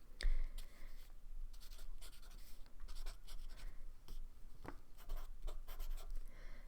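A circuit diagram being drawn by hand on paper, with scratchy pen or pencil strokes coming in short bursts and pauses, close and quiet, with no speech.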